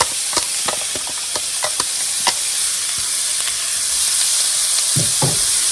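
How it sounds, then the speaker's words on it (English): A large chopped onion hits a tablespoon of butter in a hot skillet, sizzling loudly and evenly up close, with scattered crackles and a couple of stirring scrapes near the end. "I have a tablespoon of butter in my skillet. I'm just going to add in 1 large chopped onion."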